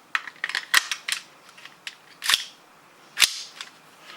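Custom Hi-Capa airsoft pistol firing BBs through a chronograph, with a few sharp, close snapping shots spaced irregularly amid lighter clicks and handling noise.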